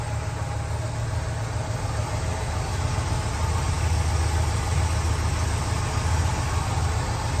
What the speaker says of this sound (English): That 394 ultra high compression V8. Nice smooth running car.